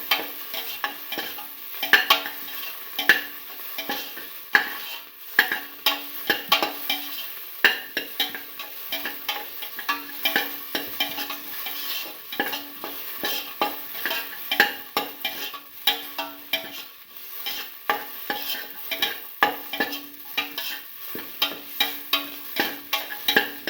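Tomato pieces and garlic sauté in a pan, giving a steady close sizzle broken by frequent scraping and clattering stirs throughout, with no talking.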